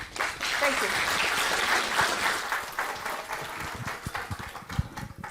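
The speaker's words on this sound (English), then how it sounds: "Guys, round of applause, please." A conference crowd at a veterinary congress in Kochi applauds after a lecture, a full, sustained wash of clapping that thins slightly toward the end, with voices talking underneath.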